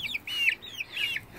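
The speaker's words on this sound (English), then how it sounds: "Chicken escape." Several chickens cluck near the coop, giving repeated short high calls in an uneven rhythm, close and moderately loud.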